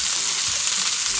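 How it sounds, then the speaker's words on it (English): Meatballs for an Italian-style tomato sauce fry in oil in a pan, giving a constant, close, crackling sizzle with no voices. "We're just going to let them sizzle away for a little bit."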